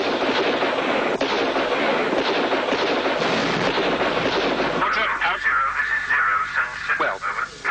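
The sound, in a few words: soldiers firing rifles at the enemy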